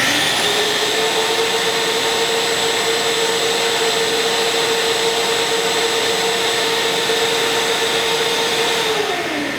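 Makita 12-gallon Xtract dust extractor vacuum running in a workshop, a steady, loud whooshing whine that holds level throughout before starting to wind down at the very end.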